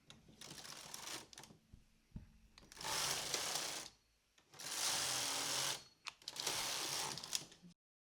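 A knitting machine carriage is swept back and forth across the bed knitting rows, making close, loud bursts of clattering, rasping mechanical noise in four separate passes with short quiet gaps between them.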